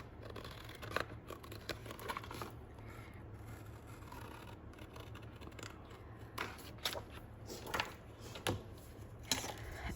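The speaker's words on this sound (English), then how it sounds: "So you cut it out carefully." Scissors cutting out a blue paper piece for a miniature book pendant, a soft, steady series of close snips and rustles with no talking.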